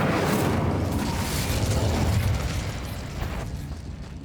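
A fire spell cast in the Hogwarts Legacy video game lets out a loud, roaring whoosh of flame that swells and holds, then slowly fades away at the end; no one speaks over it.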